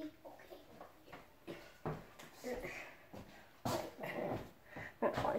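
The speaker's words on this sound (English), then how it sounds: "my puppy that is growling at me right now" A puppy grumbles and growls in short, uneven bursts close to the recording device, with soft whimpery edges, while people talk quietly nearby.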